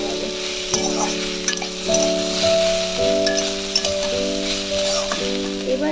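Cauliflower stems and vegetables sizzle in hot oil with turmeric while a spatula stirs and scrapes the pan, a loud steady frying hiss broken by close clinks.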